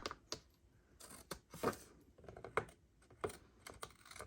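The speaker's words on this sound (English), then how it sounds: "Let's snip that off." Scissors snipping through paper trim at a craft table, a series of short, crisp cuts spaced irregularly, close and fairly quiet with no talking.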